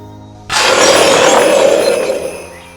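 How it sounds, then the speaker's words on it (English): A Roblox Dinosaur Simulator roar effect in a winter snow-globe style, heard as a sudden loud burst of shattering glass with bright ringing, bell-like tones that fade over about two seconds. "That almost sounded like glass shattering with like bells in the background."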